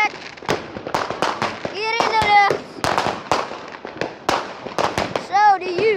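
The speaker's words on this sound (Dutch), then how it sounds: "Weer nieuw vuurwerk." Sharp firework bangs crackle in rapid succession, with a couple of whistling rockets rising through the burst; loud and close, with people talking in between.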